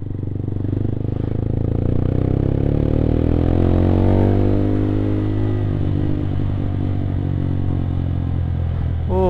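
A motorcycle ridden along a road from Kawali via Cisaga in Ciamis, its engine droning loud and close with pitch sweeping up and down as it accelerates, plus wind rumble and a brief clatter near the end.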